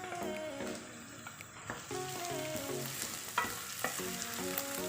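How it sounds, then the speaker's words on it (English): Vegetables and chillies sautéing in a pan for vegan veg pulao, a steady sizzle broken by scraping stirs and clinks of a utensil, close and continuous, with no voices. "I'll just saute this for another 5 minutes"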